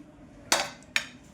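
Two crisp clinks of a dish and cutlery ring out about half a second apart while rice is served at home, each a bright knock with a short fading ring over quiet room tone.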